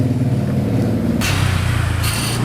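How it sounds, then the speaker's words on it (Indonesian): A Suzuki RGV 250 VJ21 two-stroke motorcycle engine running with the exhaust cover removed, a close, loud buzzing idle that jumps sharply in pitch as the throttle is blipped twice. "Pengen dengerin suara motornya kali ya?"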